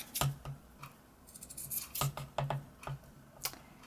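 Scissors snip the corners of a sewn fabric Christmas tree ornament, a series of quiet, close, crisp cuts in uneven clusters with small pauses between them, with no voice.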